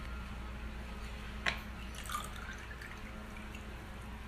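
Organic apple cider vinegar is poured into a shot glass, a faint trickle and drip close by with a brief splash near the start and a few small liquid sounds after, no talk.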